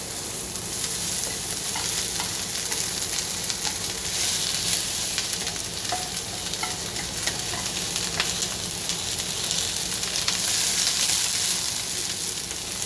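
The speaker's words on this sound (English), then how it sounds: "And then I will get my onions going." Onions fry in a hot pan with a dense, steady sizzle and crackle, along with occasional stirring scrapes. It is close and continuous throughout, and no one speaks.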